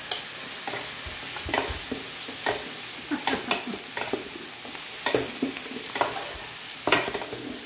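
Pancit canton noodles stir-fried in a pan, with repeated scraping and tossing strokes over a steady sizzle at close range, no voices.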